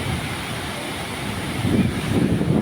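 A waterfall dropping from a height, heard as a continuous broad roar of falling water, steady and fairly close, with a slight swell toward the end and no talking.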